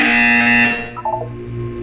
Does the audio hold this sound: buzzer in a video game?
yes